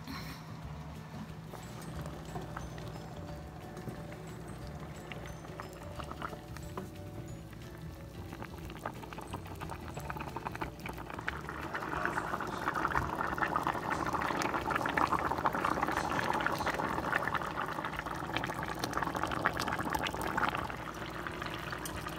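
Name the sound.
beans boiling in a pot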